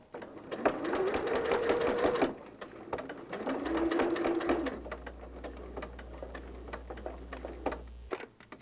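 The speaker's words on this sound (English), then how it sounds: "I'm going to sew all the way to that dot" A sewing machine stitches fabric toward a corner dot in two sustained runs separated by a pause, with ticking mechanical clatter and a low background hum.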